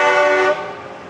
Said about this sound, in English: It's the Make-A-Wish truck convoy is what you're watching,